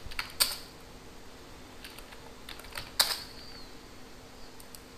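A few keystrokes on a computer keyboard, sparse quiet clicks with two sharper taps, close against a faint steady hum, no talking.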